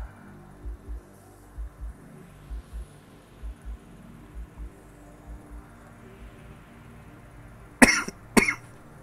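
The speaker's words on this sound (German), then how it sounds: "Ich entschuldige mich jetzt schon mal fürs Husten einfach." A person coughs twice in quick succession, sharp and close, near the end, after a stretch of low background hum with soft rhythmic thumps.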